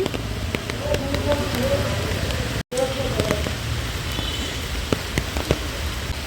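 Heavy rain pours steadily on a dark morning in Bengal, a dense, continuous wash of drops close by, with voices talking faintly beneath it.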